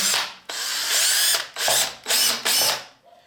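A cordless drill whirs in several bursts, revving up and cutting off four or five times in quick succession, loud and close.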